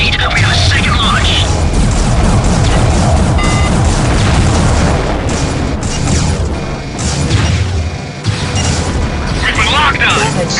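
Missile launch in the space combat game Starlancer (2000): a dense, continuous roar of booming blasts and mechanical rumble, loud and sustained throughout, with short crackling bursts and brief pauses.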